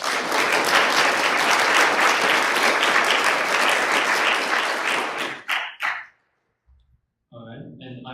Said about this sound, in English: Everyone applaud for Jocelyn